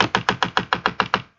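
A voice imitates the sound of chopping lines of cocaine: nine quick, evenly spaced sharp scraping taps close by, a steady rapid rhythm that stops abruptly.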